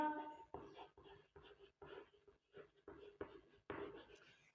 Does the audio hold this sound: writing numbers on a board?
yes